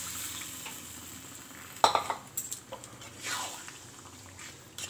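A spoon stirs butter chicken gravy in a pan, giving a few scraping, wet clinks and soft sloshing bursts over a faint background sizzle, close and fairly quiet.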